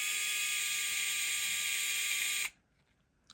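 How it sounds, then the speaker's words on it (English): An electric driver whirs steadily as it drives a screw into 3D-printed parts of an SCX24 crawler I-beam kit, a high continuous motor whine that stops abruptly partway, followed by near silence. "So I'm just tightening them almost all the way and then getting them snug by hand."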